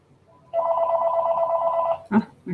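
A mobile phone rings indoors with a single sustained electronic tone lasting about a second and a half, fairly close and clear, followed by a couple of short clicks or bumps.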